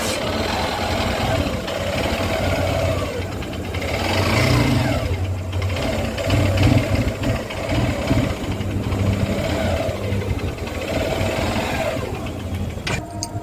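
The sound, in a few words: motorcycle engine repeatedly stalling and restarting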